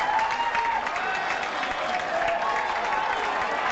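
A crowd at a Gaelic club football match gives a sustained ovation, dense continuous clapping with some crowd noise underneath, steady and loud with a voice faintly over it.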